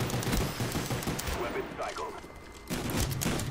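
Akimbo HS10 shotguns blasting in a video game, a quick volley of loud booming shots, a short lull, then another burst, with a voice talking over the gunfire.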